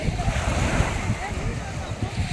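Waves wash steadily onto Ariyaman beach in Tamil Nadu, a clear-water shore on the way to Rameshwaram, in a continuous close surf roar with wind noise buffeting the microphone.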